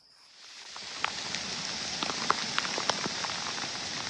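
Heavy rain falls with strong wind in a forest, seemingly heard from a tree platform. The wash swells in from quiet to a steady roar, with scattered louder drops and patters hitting nearby.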